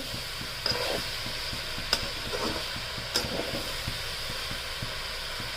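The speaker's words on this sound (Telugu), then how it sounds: "బీరకాయ ముక్కలకి వెళ్తుంది. ఇలా ఫ్రై చేయాలి. వేగుతుంది." Ridge gourd pieces fry in a pan for a vegetable curry, giving a continuous close sizzle with a soft rhythmic scraping of stirring and a few sharp ticks, with no talk.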